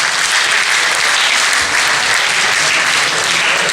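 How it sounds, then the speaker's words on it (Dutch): Loud, dense applause from an audience at a carnival song contest prize announcement, a constant roar of many hands clapping at close range with no pauses and no talk. "Dus fijn met je stem en een applaus voor jezelf."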